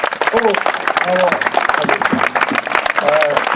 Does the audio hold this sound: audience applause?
yes